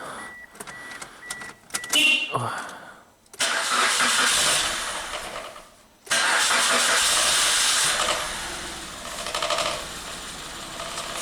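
A car engine cranks and catches after a few seconds, then cuts briefly before running on at a steady, fairly loud idle that swells slightly toward the end.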